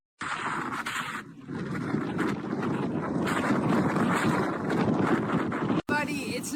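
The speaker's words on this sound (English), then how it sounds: "like you see, it's really blowing away here" Strong wind in Sardinia roars steadily against the microphone in loud, continuous buffeting gusts, with a voice speaking over it.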